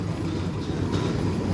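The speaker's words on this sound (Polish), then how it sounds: "No i jedzie sobie stąd pociąg z daleka." A train rolling by somewhere outside a station, heard as a steady low rumble of rail noise that holds fairly even throughout, with no voices over it.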